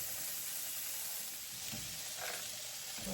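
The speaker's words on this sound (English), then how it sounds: "while that spam is frying" Spam fries in a pan with a steady, close hiss and sizzle, broken by a few faint stirring scrapes, with no talking.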